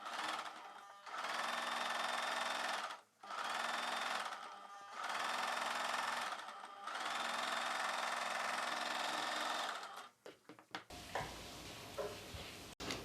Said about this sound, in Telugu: ఇప్పుడైతే ఇలా ఫోల్డ్ చేసేసి లూజ్ కుట్టు ఒకటి వేసేస్తున్నాను